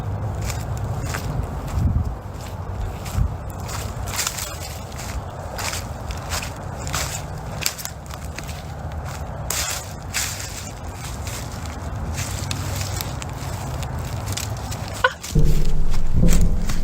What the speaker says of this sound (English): Footsteps can be heard approaching